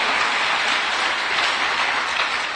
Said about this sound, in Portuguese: Você pode dar um aplauso a Ele aí ou não?